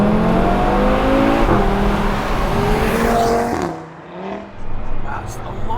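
Audi TT RS engine in sports mode revving hard through the gears, a loud climbing harmonic roar with a shift around the midpoint, then easing off and picking up again, continuous and close.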